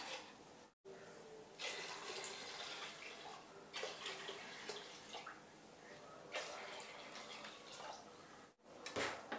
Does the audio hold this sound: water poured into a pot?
yes